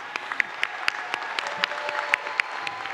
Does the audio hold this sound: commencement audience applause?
yes